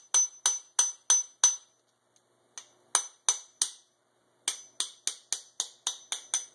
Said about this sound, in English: tap it until the bearing hits the C-clip that you put on earlier